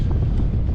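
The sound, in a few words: wind blowing at sea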